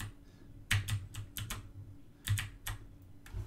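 Clicky presses on a computer keyboard come in short bursts of several rapid keystrokes, separated by brief pauses. They sound close and fairly quiet, with no talking.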